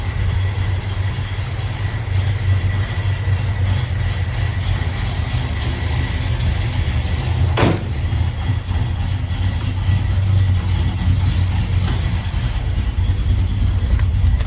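A 1967 Plymouth GTX 440 engine runs steadily while driving with a deep, low rumble throughout, holding a constant drone with no voices and one brief click midway.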